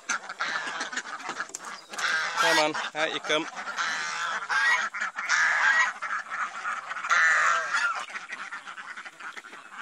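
Farm ducks and geese quack and honk close by in a steady, overlapping racket, with a person speaking briefly among the birds.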